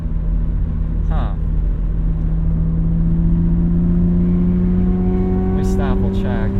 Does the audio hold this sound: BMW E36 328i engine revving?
yes